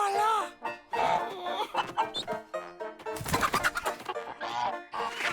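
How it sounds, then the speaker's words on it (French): Cartoon chickens clucking and squawking in rapid, excited bursts, with animated voices talking in between and over them, fairly close and lively. "Monsieur Peabody, derrière vous, des poules avec des dents."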